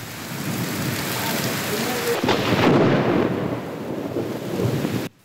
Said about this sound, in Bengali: এরপরই বজ্রপাত ও ঝোড়ো বাতাসের সাথে শুরু হয় প্রবল বৃষ্টি।